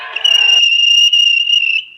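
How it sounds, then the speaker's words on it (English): A guard's whistle gives a sharp, shrill blast held for nearly two seconds, loud and close, starting over a brief burst of noise. "guard's whistle."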